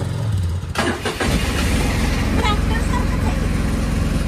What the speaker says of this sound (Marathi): Engine start.